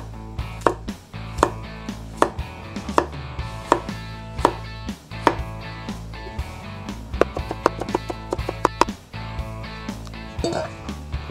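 A knife chops white potatoes into thick wedges on a board, a close series of sharp irregular thunks over a steady low background hum, with no talking.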